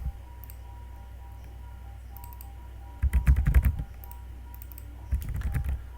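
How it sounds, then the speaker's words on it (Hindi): Fingers type on a computer keyboard while data is entered into table cells in AutoCAD, in two short rapid bursts of close, crisp keystrokes separated by quiet room hiss. "अब तुम यहाँ पे कुछ भी टाइप करो"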